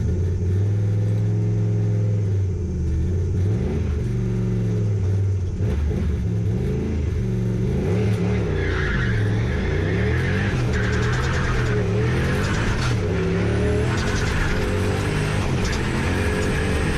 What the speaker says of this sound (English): for the first run of the day I'd do a burnout just to get the tops off those tyres